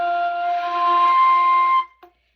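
A flute sustains a clear, steady high harmonic, overblown from a fingered low F, held for nearly two seconds before cutting off, followed by a brief short blip of the same tone.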